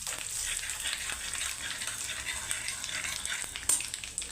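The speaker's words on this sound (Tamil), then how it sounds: "பெருங்காயம் போட்டு ஒரு தடவை கலக்கி கொடுத்து" Asafoetida being stirred into hot oil in a pan for a South Indian dish, giving a steady close sizzle of frying with faint scraping of the stirring.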